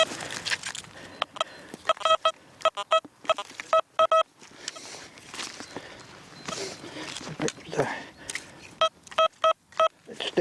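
Deus metal detector giving pinpointing signal tones, short clipped high electronic beeps in quick bursts of several, sounding between rustling soil and handling noises while a person talks nearby.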